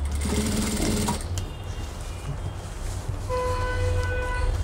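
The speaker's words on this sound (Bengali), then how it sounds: "এখন পুরোটা একসাথে সেলাই দিতে হবে আমাদেরকে।" A sewing machine stitches a rubber waistband onto school pants, running in a loud close burst at first, then continuing more quietly with a steady mechanical hum and a few tonal whines, no talking.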